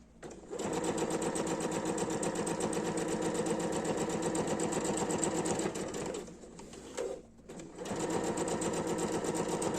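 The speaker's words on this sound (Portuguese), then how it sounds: "Passa uma costurinha bem retinha." A sewing machine stitches a straight seam on a small zippered pouch in a steady, rapid mechanical whir. The run pauses briefly twice near the end, then the machine starts again.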